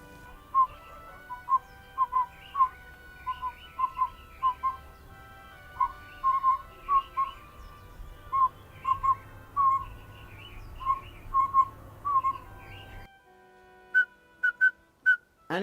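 A collared pygmy owlet calls in a Himalayan forest, repeating clear hollow whistled notes in pairs and small groups at a steady, patient rhythm over faint background hum, moderately close and carrying on without a break.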